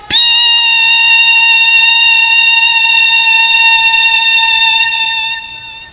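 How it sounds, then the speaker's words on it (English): A single long, loud electronic beep, a steady pure tone holding for several seconds before cutting off, alone. "The same light code that goes like beep."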